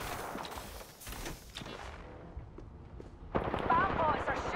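Gunfire in a multiplayer shooter video game, rapid bursts and booms overlapping with a steady rumble, louder in the final second as a fresh volley starts.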